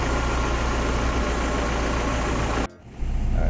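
An untuned H2B engine fitted with a K series manifold idles at around 1,000 rpm, giving a loud, steady, close mechanical drone that cuts out abruptly for a moment before resuming.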